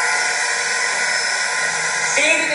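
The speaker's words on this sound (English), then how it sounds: "Because the vacuum is still on." A loud motor whine runs continuously, a steady high-pitched rushing drone like a vacuum cleaner close by, with a brief shift in pitch near the end.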